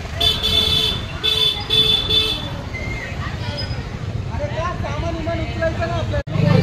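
A tempo truck comes up from behind on a crowded street during a Dahi Handi celebration. Its engine rumble builds steadily under traffic noise, with repeated horn-like tones early on and a low drone near the end.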